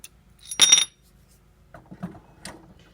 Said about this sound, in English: you grab the glass at the cutting line and pop it